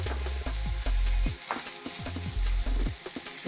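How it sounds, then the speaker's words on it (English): Onions fry in a pan before going into a crockpot, with a loud, dense sizzle that holds steady throughout, joined by repeated scraping stirs and pan sounds. "Always love the sound of I just frying like onions."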